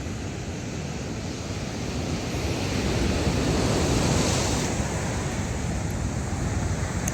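Ocean surf rolls onto the shore at Imperial Beach in San Diego, California, a steady broadband roar of breaking waves with wind buffeting the microphone, swelling slightly toward the middle before easing.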